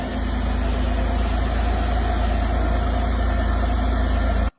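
A Mercedes engine left unused for four years idles steadily and a little roughly, a continuous low rumble that cuts off at the end.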